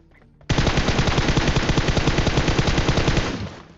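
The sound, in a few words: gunfire in PUBG Mobile video game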